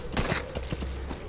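Horse hooves clip-clopping in the video game Metal Gear Solid V, a quick run of about five close hoof strikes at an uneven trot over a steady low rumble, with no talk over them.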